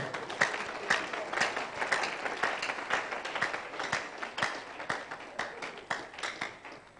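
A church congregation at a live prophetic ministry service claps steadily throughout. Many hands make a continuous, moderately distant applause with rhythmic peaks, and there is no clear speech.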